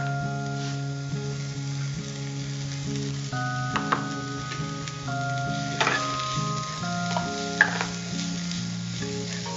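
Cabbage and tomato fry in a pan, giving a steady sizzle with occasional clinks of a stirring utensil, close up and continuous throughout.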